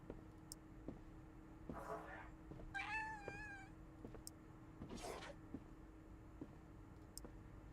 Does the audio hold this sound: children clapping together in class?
no